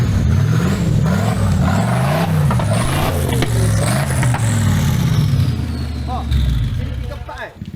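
An off-road racing truck at the Rainforest Challenge in Malaysia screams near its rev limiter, a loud sustained engine roar with wavering pitch that fades toward the end, while people talk excitedly over it.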